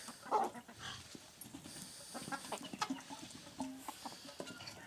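Chickens cluck and a rooster calls amid a busy farmyard, with scattered bird noises and faint background activity throughout.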